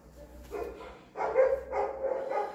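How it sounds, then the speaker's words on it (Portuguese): A dog barks nearby in a few short bursts, loud and clear, with whimpery tones between barks and no speech over it. "cachorro latindo"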